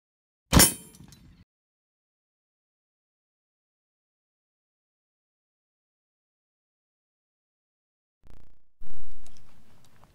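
A .308 M2 armor-piercing round strikes a 3/8-inch AR400 steel plate: one sharp, loud metallic clang with a brief ring, then long silence before a distant thump and a second, softer impact-like burst.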